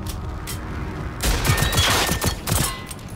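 Rapid burst of pistol shots in the Generation Zero video game, several sharp cracks in quick succession at close range, loud and clear with a brief quieter lead-in and no talk over them.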